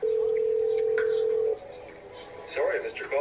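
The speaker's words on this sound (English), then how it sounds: "He ain't answering the phone." An unanswered telephone call in a short horror film gives one steady ringing tone for about a second and a half, then cuts off as voices start talking.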